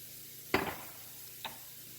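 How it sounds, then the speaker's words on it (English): Smoked paprika and spices stirred in a hot pan for chicken spaghetti, one sharp scraping stir with a brief sizzle followed by a smaller tap, close and otherwise quiet. "Give that a stir"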